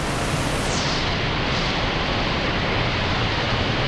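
Rhine Falls waterfall giving a constant, dense roar of rushing water, broad and steady throughout with no voices.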